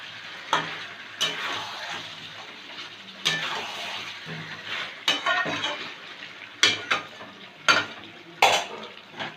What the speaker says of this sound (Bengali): এবার আলুগুলো দিয়ে দেবো। আলুগুলো একটু মশলার সাথে মিশিয়ে নেব।